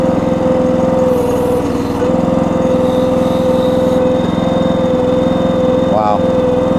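A Red Rock Trencherman mini towable backhoe's small engine runs steadily and loud, a constant droning rumble with a brief rising whine near the end as it works.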